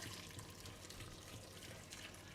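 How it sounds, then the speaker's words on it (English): Hot or boiling water is poured into a blender holding ginger, giving a steady, close rush of flowing liquid with no pause throughout. "What you pour in it is hot water"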